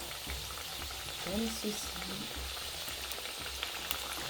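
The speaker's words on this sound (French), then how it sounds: "dans une petite sauteuse, j'ai mis de l'huile et je vais rajouter mes pastels" Pastels sizzle steadily in hot oil in a small sauté pan, a constant crackling hiss with a brief stir and a short spoken phrase over it.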